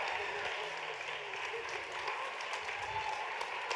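A distant gala crowd steadily applauds winners at a national dance competition gala, the clapping a broad, even wash heard from far back in a large hall.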